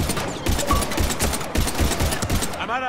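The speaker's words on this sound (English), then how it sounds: "We're taking heavy fire." Heavy automatic gunfire in the video game Mass Effect 3: a steady, fast rhythm of loud, close shots that runs almost without a break, with a short electronic warble at the end.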